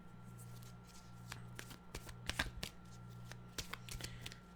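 Tarot deck being shuffled by hand: a run of crisp, close card flicks and riffles in an irregular rhythm over a steady low electrical hum, no talk.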